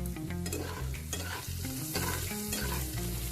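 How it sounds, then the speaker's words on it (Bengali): Potatoes frying in oil in a pan with turmeric and salt, stirred and turned steadily, giving a continuous close sizzle with scraping stir strokes throughout. "এবার লাল লাল করে উল্টা পাল্টা ভেজে নেব"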